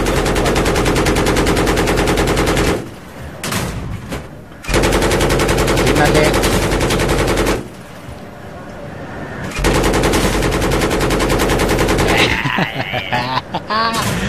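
Sustained machine-gun fire blasts at a tank in Battlefield 3, loud and close in long continuous bursts broken by brief pauses and a few short gaps with quieter battlefield noise.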